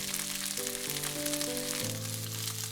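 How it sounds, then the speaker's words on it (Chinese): Slices of Cantonese radish cake with dried shrimp sizzle gently in oil in a pan as they fry golden on both sides. The crackle is soft and steady and sits under sustained background music notes. "把萝卜糕放进去，两面煎黄。"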